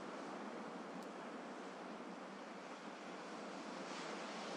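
Ocean waves breaking on the shore below a cliff, a steady broad wash of surf with a faint wind rush, continuous and slightly distant, with no voices.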